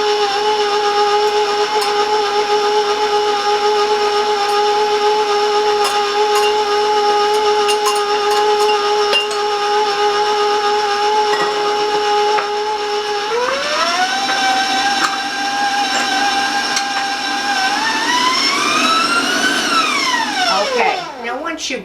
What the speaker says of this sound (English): I'm going to warn you about the sound about the mixer being loud